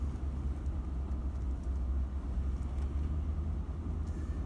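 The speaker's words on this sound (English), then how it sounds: "There's one other vehicle." A car rolls along the Blue Ridge Parkway, giving a steady low rumble of engine and road noise that holds at an even level throughout, with no voices.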